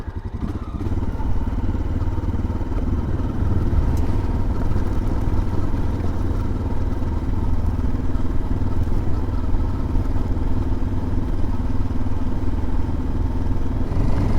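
A motorcycle rides down Boreas Pass along the Continental Divide in the Colorado mountains. Its engine makes a steady, loud drone with wind rumble, continuous and close, with no talking.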